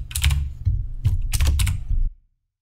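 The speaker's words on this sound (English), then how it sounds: "So if I was to type in planet here," A few short bursts of typing on a computer keyboard, clustered keystrokes with a heavy low thump, close and fairly loud, ending abruptly into silence.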